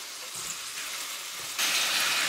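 Pork belly frying in oil in a pan gives a steady, bright crackling sizzle that grows noticeably louder partway through.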